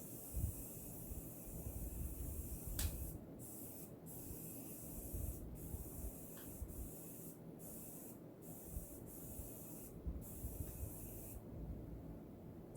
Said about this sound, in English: get the Morphe setting spray. Just a tip.